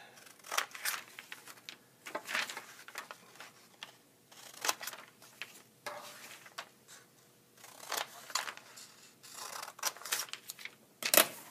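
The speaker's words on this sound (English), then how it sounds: "So we need to cut each of these lines up to the fold that we just made." Scissors snipping paper lines up to a fold for a moon-phase foldable craft: repeated short crisp cuts in irregular bursts with pauses between, close and fairly quiet.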